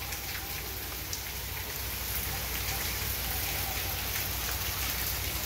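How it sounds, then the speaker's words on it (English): Heavy rain from Cyclone Yaas pours steadily onto surfaces, a dense, even hiss with scattered drops that holds at constant strength without a break and without voices. "Raining so much,"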